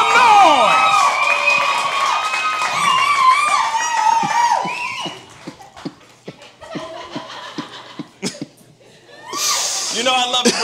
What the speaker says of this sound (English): Cheer them on. Cheer them on. Make some noise.